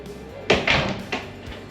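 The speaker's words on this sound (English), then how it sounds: "So another frosted door." A frosted glass door in a resort swim-up suite bathroom opens with a sharp knock followed by a couple of lighter clunks and rattles, close by.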